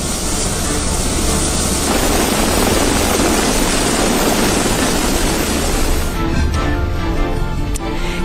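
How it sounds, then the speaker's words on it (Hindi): A navy helicopter sets down on the rooftop of a house during severe flooding in Kerala, its rotor wash and engine making a loud, steady roar that holds throughout and thins briefly near the end. "नेवी के हेलीकॉप्टर को एक घर की छत पर न सिर्फ सुरक्षित उतारा"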